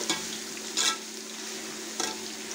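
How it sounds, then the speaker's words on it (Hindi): Onion, garlic and ginger fry in a pan for a village-style chicken pota kalaji masala, giving a steady close sizzle broken by three short scraping stirs, with no talking. "इतना अच्छा लहसुन अदरक और प्याज फ्राई हो गया"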